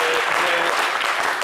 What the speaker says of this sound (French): m'encouragez avec les applaudissements